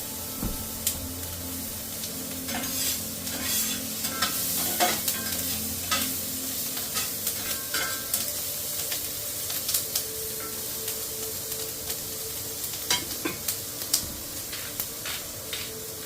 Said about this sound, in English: Put some butter in our pan here. Put my peppers in there.